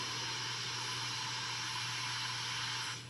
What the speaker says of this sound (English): And then 13 is our safety valve